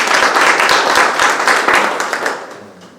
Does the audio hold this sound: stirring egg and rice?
no